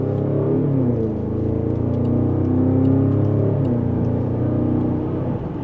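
Range Rover SV engine pulling hard in second gear, a steady close-up drone that climbs in pitch, then drops briefly at a shift before rising again, with no talk over it.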